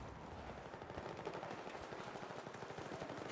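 Rapid gunfire crackles through a flooded-zone video game firefight, automatic bursts stuttering in dense, steady rhythm at moderate volume with no voices over it.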